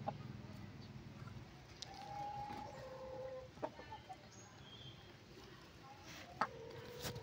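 Farm roosters of about 2 to 2.5 kg, six to seven months old, cluck and call faintly in the distance amid low outdoor background noise, with a few brief sharper clucks.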